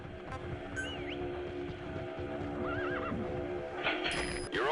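Horse in the Metal Gear Solid V: The Phantom Pain video game neighs twice over a low ambient game soundscape, followed by a rising whinny and hoof clatter near the end; no speech.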